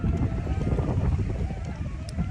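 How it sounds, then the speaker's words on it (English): Gusty wind buffets the microphone at a protest blockade at the world's largest coal port, producing a heavy, continuous low rumble that rises and falls throughout. "I didn't realise it was going to be quite this windy"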